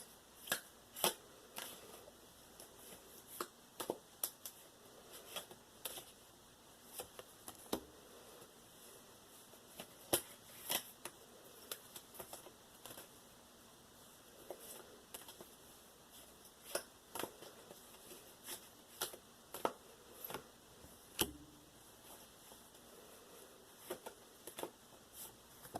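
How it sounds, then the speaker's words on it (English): Crisp, quiet waterfall shuffling of tarot cards: repeated sharp riffles and soft clicks scattered across a faint background hiss, with no talking. "waterfall shuffle these."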